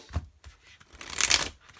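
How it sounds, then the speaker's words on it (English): Romance angel oracle cards being shuffled by hand, a few soft riffles building to a brisk, close burst of papery flutter before stopping. "let's just get a romance angel card for you"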